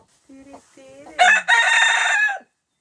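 Hens and a rooster in a family backyard flock on a farm, clucking softly at first and then a loud, close rooster crow that holds for about a second, with a voice speaking warmly among the birds.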